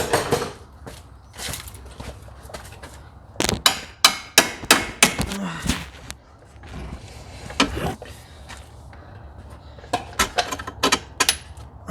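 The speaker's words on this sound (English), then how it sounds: "I need a hammer for that one." Sharp metallic hammer strikes while repairing a Polaris Sportsman 800 ATV, coming in irregular bursts and a rapid cluster of close, loud taps over a quiet workshop background.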